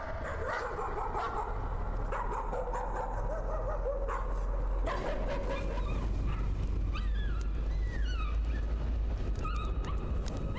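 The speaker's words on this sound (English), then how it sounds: "Hear the dog." A dog in the horror game Layers of Fear (2016) barks, yips and whimpers in a string of short calls over a low rumbling ambient drone, moderately near, with no talking.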